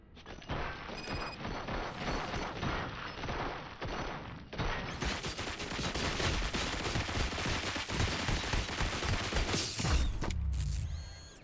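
Sustained heavy gunfire in RoboCop Rogue City, a dense continuous barrage of rapid shots and mechanical clatter lasting about ten seconds, loud and close, ending in a crash.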